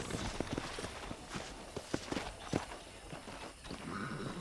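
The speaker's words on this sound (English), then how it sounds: "let's see if you can still ride a horse" Video game horse hooves clip-clopping at a walking pace while riding, over steady background ambience, a regular muffled rhythm of hoofbeats at moderate distance.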